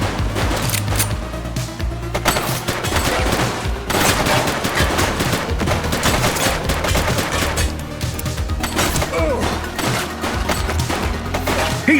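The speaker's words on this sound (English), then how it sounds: "He's shooting! Shots fired!" Rapid gunfire rings out in the police game The Precinct, with dense bursts of automatic shots and single cracks packed close together and loud throughout, without a break.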